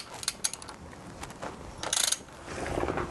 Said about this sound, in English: 14mm socket with your wrench, and the 2 bolts here are fairly easy to remove